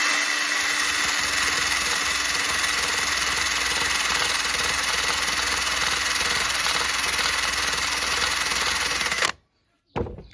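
A brush scours rust deposits from a two-stroke exhaust pipe in a loud, continuous, close-up droning scrub. It stops abruptly near the end, followed by a brief restart.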